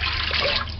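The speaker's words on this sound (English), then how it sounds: "Add 4 cups of water." Water trickles steadily into a pot while curried conch meat is prepared, a continuous close pouring hiss with no voices.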